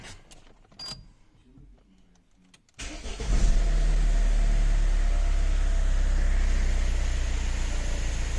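An Opel Vectra B 2.0 DTI diesel engine cranks briefly and catches, then settles into a loud, steady, close idle after a few seconds of quiet mechanical clicks and rustling.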